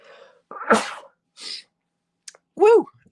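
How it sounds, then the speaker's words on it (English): A loud, close sneeze bursts out, followed by a short breathy sound and a vocal exclamation afterward. "I gotta sneeze."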